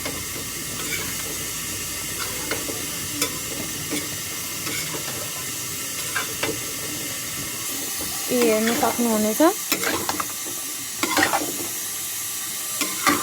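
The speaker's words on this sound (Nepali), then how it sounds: "यसलाई एकछिन चलाउने" Fish gravy sizzles and hisses in a pan while being stirred, with repeated scraping and clinking of a spoon. A voice speaks briefly over the bubbling.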